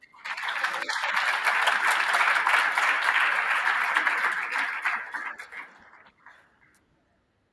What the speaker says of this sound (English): Let's do one more round of applause for them.